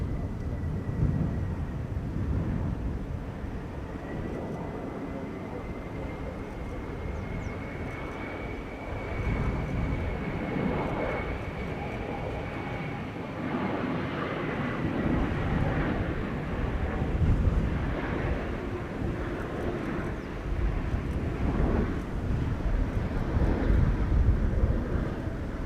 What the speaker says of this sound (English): BizJet is coming in.